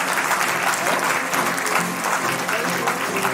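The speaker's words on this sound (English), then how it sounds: "let's give her a huge round of applause" Dense, loud audience applause at a teachers' award ceremony for Dr. Priya Saroj of the Law Department, a steady wash of many hands clapping throughout with faint crowd noise.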